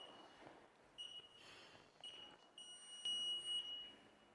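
A tyre service machine sounds an alarm: a thin, high electronic beep that repeats several times in short bursts, faint against a quiet background.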